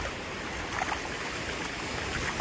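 A river stream flows in a steady, broadband rush of water, close and continuous, with no voices over it.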